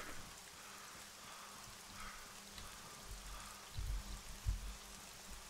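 Steady rain falling in the video game Arma 3 Breaking Point, a soft even hiss throughout with a few faint low thumps near the end, no talk.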